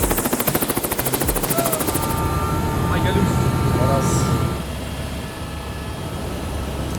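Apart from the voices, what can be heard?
helicopter flying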